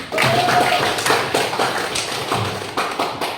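Students clap together in a classroom during a lesson on the founding of the Abbasid dynasty, giving a dense burst of quick, close claps that continue steadily for a few seconds.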